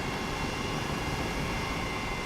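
Steady, unbroken rotor and turbine roar of an Airbus H135 helicopter in a flight simulator game, loud and close with an even level throughout and no voices.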